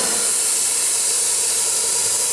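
Steam hisses hard from the blowpipe draft of a large boiler at about 90 to 100 pounds of pressure, a loud, steady, broad rushing hiss from close by.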